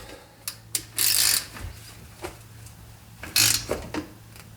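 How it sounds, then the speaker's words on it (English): Wheel lug nuts being threaded on and tightened, with a few sharp metallic ratchet clicks and two short bursts of spinning, close and fairly quiet against a low steady hum. "I'm gonna put these lugs on. Typically these are torqued to about 100 foot-pounds."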